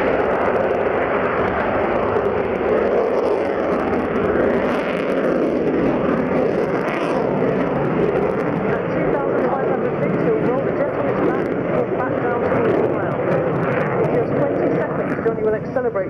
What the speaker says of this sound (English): he'll light both the afterburners and climb nearly vertically, demonstrating the incredible power of the Rolls-Royce engine